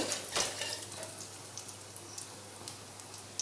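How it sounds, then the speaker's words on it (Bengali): Dried red chillies and whole cumin seeds sizzle in hot oil, a constant close crackling hiss with small pops scattered through it. "তেল গরম হয়ে গেছে, এবার ওতে দিয়ে দেব শুকনো লঙ্কা আর গোটা জিরে ফোড়ন"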